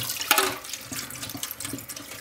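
Cold tap water runs and splashes over freshly boiled eggs in a pot, a steady rushing stream with small gurgles and bumps throughout, moderately loud and with no talking.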